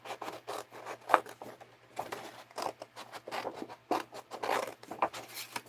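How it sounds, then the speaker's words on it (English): Large scissors cutting paper for a mixed-media art journal, heard as quiet, close rustling and snipping strokes. The cuts come in an irregular, uneven rhythm with no one talking. "I don't like using these larger scissors for..."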